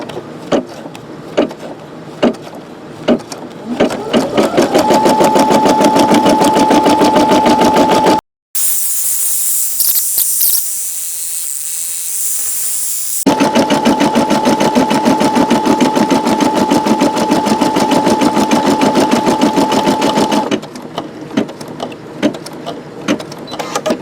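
A Brother SE625 embroidery machine stitches with a loud, steady, rapid mechanical rattle and whir. A quieter high-pitched whine and a short break interrupt it midway before the stitching resumes, and it ends in slower clicking.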